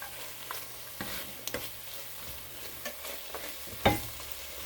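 Home-grown garden garlic and carrots sizzle in a soup pot, a soft, steady frying crackle punctuated by occasional stirring clicks and one sharper scrape.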